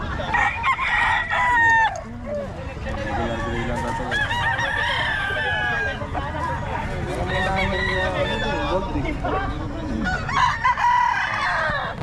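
Many chickens cluck and crow together at a poultry sale, with roosters calling repeatedly over a noisy crowd of birds and some human voices.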